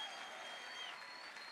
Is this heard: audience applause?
yes